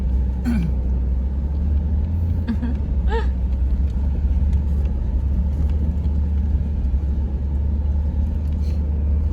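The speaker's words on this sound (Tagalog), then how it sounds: "Matibay naman makina nito, Toyota." A Toyota Land Cruiser engine drones loud and steady on desert dunes during a desert safari in Qatar, with a low rumble and road noise throughout and brief faint voices over it.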